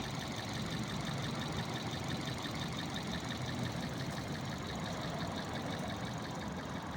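A 2010 Toyota Altis 1.6 CNG car engine idles smoothly and steadily, a constant low rumble with a faint whine above, with no talking over it.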